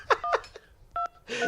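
Telephone dialing tones sound as a quick run of short touch-tone beeps, several separate keypresses in an uneven rhythm, fairly faint and clean with no talking over them.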